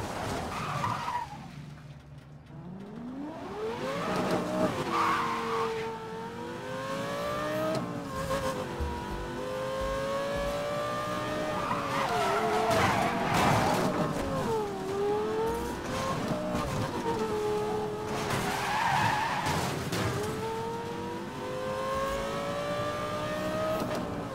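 Continuous roar of a Ford Mustang racing in Need for Speed Most Wanted (2012), with rising and falling engine revs and long tire skids and squeals through corners, loud and close with no talking.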